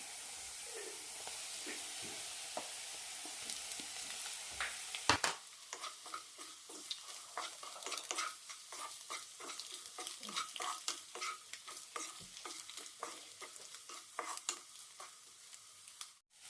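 Eggs go into a pan of roasted spice powders and salt for egg roast, with an airy sizzle at first, then close, steady stirring and scraping over a low frying hiss.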